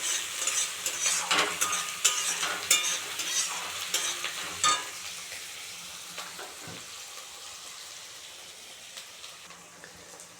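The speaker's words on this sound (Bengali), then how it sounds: "পেঁয়াজটাকেও আমি লাল করে ভেজে নেব" Chopped onions frying in a pan until browned, with scraping stirs and clinks over a crackling sizzle at first, then a quieter, steady fry.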